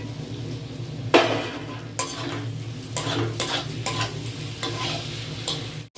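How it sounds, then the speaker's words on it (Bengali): Pre-fried potatoes are stirred into cooked masala in a hot pan for echor chingri: steady sizzling frying with repeated scraping strokes of a spatula against the pan, close and fairly loud. "এবার এর মধ্যে ভেজে রাখা আলুটা আমি দিয়ে কষিয়ে নেব।"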